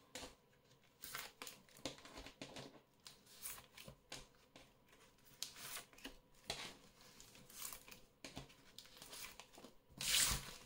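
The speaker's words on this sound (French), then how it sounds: "Hop, je replace mes cartes et on y va." Tarot cards being handled, shuffled and set back down on a table: repeated soft crisp slides, flicks and papery rustles in quick irregular bursts, close and fairly quiet, with no talking.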